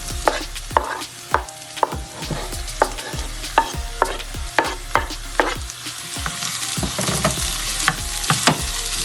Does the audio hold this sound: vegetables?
yes